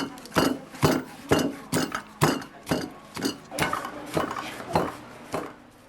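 Spices for Zanzibar pilau being pounded in a mortar: steady rhythmic thuds, about two per second, each with a metallic clink, close and fairly loud with no talk.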